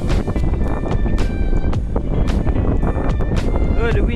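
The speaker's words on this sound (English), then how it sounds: "the wind's trying to catch my hat" Gusty wind on an exposed mountain hike buffets the microphone in loud, rough bursts throughout, with a voice speaking over it.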